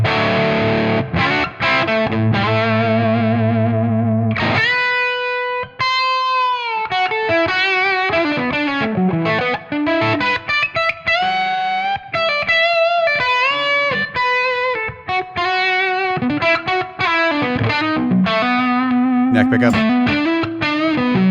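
Electric guitar played through a Tonex amp model on the bridge pickup with OD2 overdrive, giving a driven, distorted tone. Sustained chords open, then melodic single-note lines and bends run steadily and loud throughout, with no talking.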